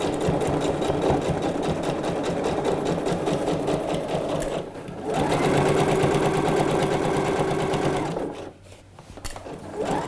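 A sewing machine runs steadily, stitching along a trouser seam 1 cm from the edge; the whirring motor continues for about eight seconds, briefly eases mid-run and stops near the end, with no talking over it.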